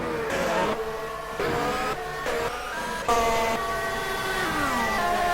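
Formula 1 race car in rFactor at the Barcelona circuit, its engine revving loudly and steadily upward through gears on leaving the pits, with a sharp tonal whine and brief drops between shifts.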